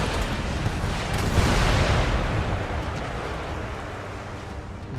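A warship fires a cannon broadside in the Empire Total War game, heard as a heavy, sustained rumbling roar of blasts that slowly fades.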